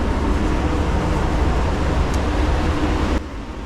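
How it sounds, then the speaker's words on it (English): A spray gun applies Glasurit 100 Line silver metallic basecoat to a car at 18 psi, giving a steady, loud hiss over a low rumble that drops away abruptly near the end. "base coat and I'm spraying it at 18 psi"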